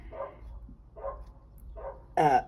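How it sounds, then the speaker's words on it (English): A dog in an upstairs apartment barks several times at a steady pace, muffled and somewhat distant, with a louder, closer bark at the end. "the dog who lives above me was barking like crazy"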